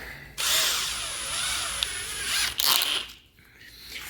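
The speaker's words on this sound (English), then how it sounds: "Now it's time to load up the drill" A power drill whirs steadily, boring a hole through a steel rotor blade for an RC helicopter, starting abruptly, running for about two seconds, then briefly surging before winding down.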